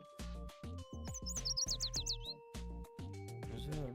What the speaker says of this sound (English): There's birds flying and chirping joyfully.